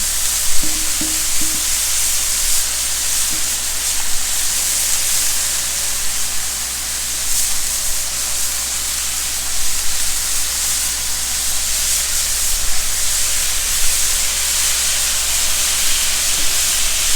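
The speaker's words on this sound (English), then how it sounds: "Now while it's steaming, I'm going to close it down and let it steam up real good." Burgers sizzle and steam on a Blackstone griddle, making a steady, loud, broadband hiss that runs unbroken with no talking.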